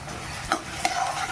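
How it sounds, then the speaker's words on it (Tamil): Onions, green chili and curry leaves sauté in a pan for an oil-rich brinjal kuzhambu, giving a soft steady sizzle broken by two quick stirring clinks. "ஒரு பச்சை மிளகா, வெங்காயம் நல்லா வதக்கிக்கலாம்"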